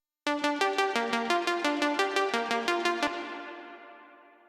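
Synth arpeggio built from two saw waves run through delay and reverb, a fast stream of bright, buzzy notes in a steady pattern that stops after about three seconds and leaves a trailing echo.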